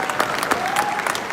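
Audience clapping at a company celebration event, a steady dense patter of many hands filling the hall, moderately loud and continuous for a brief burst.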